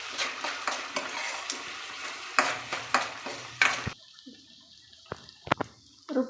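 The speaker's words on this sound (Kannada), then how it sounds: "ಮಸಾಲೆ ಹಾಕಿ ತಿರುಗ್ಕೊಳ್ಬೇಕು" A masala with tomato and turmeric is stirred in a frying pan, with scraping strokes over a sizzle that cuts out partway, leaving quieter sharp clicks and pan knocks.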